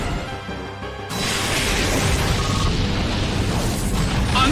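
An Explosion move in the Pokémon Battle Revolution video game, a sudden loud blast that kicks in after a quieter stretch and then sustains as a broad roaring rumble.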